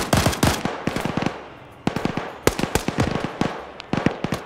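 Rapid bursts of automatic gunfire in a video game firefight set in Afghanistan, loud clustered volleys with short pauses between them, no talking.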